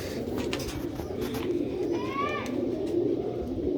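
Rooftop pigeons cooing softly, with a brief clear call partway through over steady outdoor background noise, fairly faint and close.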